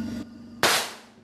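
A single sharp, loud gunshot crack from a firearm bursts out and decays over a fraction of a second, after a brief murmur of low background sound.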